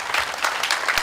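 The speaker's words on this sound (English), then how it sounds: "Let's give them a round of applause." A short burst of audience applause after a dance performance: close, dense clapping lasting only about a second.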